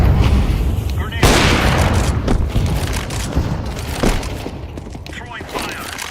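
A grenade explodes in Counter-Strike 2 with a loud, sharp burst, followed by several smaller bangs and gunfire-like cracks over dense, continuous game noise.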